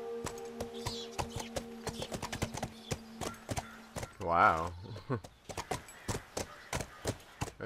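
A horse's hooves clip-clop steadily in the PS4 game The Last of Us Remastered. The close, regular hoofbeats are broken by a loud neigh partway through, and a person briefly exclaims.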